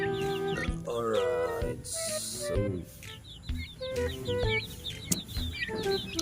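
Several turkeys cluck and gobble close by in a busy yard, with a brief spoken word partway through.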